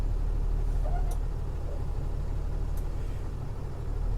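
A box truck idles and creeps slowly in reverse toward a lift gate, a steady low engine rumble holding throughout with a couple of faint high squeaks, no talking.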